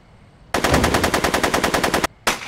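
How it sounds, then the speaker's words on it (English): Video game gunfire in a Back to the Future game crackles as a loud, rapid burst of automatic shots lasting about a second and a half, a short pause, then another burst begins, with no talking. "Are you shooting at me?"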